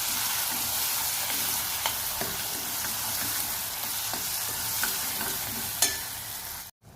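Spice masala sautéing in hot oil for a rustic village-style black-masala brinjal dish, a steady close sizzle with repeated soft scrapes of a spoon stirring through the pan.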